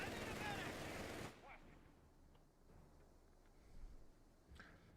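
MG42 machine gun in Company of Heroes 3 rattles out a loud, dense burst for just over a second, then drops to a quieter battlefield rumble with scattered distant shots, all under a commentator's voice.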